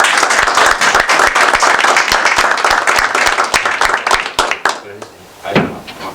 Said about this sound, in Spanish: pues el aplauso es para él